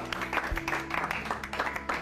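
A studio audience on a televised competition show claps in a short burst of applause, uneven and moderately loud, with some voices mixed in.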